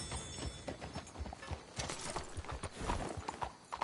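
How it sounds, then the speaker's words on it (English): Horse hooves clip-clop in a PS4 video game, a busy overlapping run of hoof beats from several horses, moderately loud over a steady ambient bed, with a brief whinny-like tone near the end. "Let's hit the horses up ahead."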